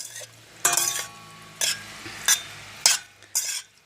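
A spoon stirs homemade tomato sauce for pasta in a pan, five separate scraping strokes at an uneven pace with quiet pauses between them, close by.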